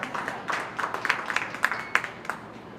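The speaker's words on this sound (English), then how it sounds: "Let's give both those exhibitors a nice round of applause" Scattered, fairly faint applause from a small crowd at a county fair open class beef show, individual claps standing out as uneven sharp pops rather than a dense roar.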